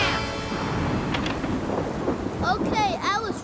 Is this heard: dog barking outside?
no